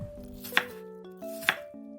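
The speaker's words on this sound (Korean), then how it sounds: "사과 반 개를 채 썰어 주세요." A knife julienning an apple chops on a cutting board with two sharp, bright strikes spaced about a second apart in a quiet room.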